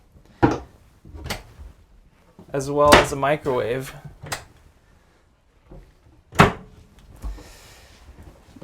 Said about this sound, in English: these are all soft close drawers, which is really nice